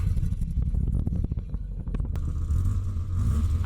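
An old Volkswagen Golf GTI engine is started close by: rapid cranking pulses over a deep rumble, then the motor catches and settles into a steady, throaty idle.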